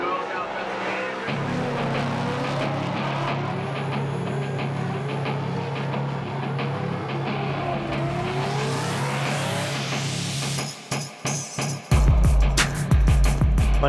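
A Nissan 370Z drift car drones loudly at steady engine pitch with a wavering tire squeal over it, then a sharp cut and a burst of louder, harsher engine noise near the end.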